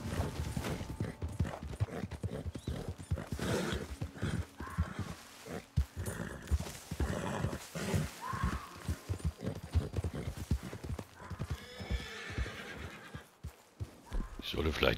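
Horse hooves clip-clop in quick, uneven beats in the video game Red Dead Redemption 2 Online, with a horse whinnying partway through and game-like background sounds alongside.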